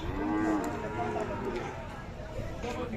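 Khillar cows low at a livestock market, several drawn-out moos close by over a busy background of crowd babble and animal movement.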